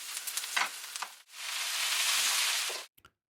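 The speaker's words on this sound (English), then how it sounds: "this is going to give a lovely little sizzle" Broccoli hits a hot frying pan with a few crackles, then a loud, continuous sizzle builds and holds before cutting off abruptly.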